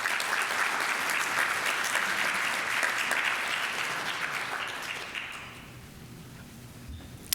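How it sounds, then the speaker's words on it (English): Audience applause fills a Rotary club meeting room, steady and fairly close for about five seconds before thinning out into scattered claps and quiet. "Let's give Cheryl a round of applause."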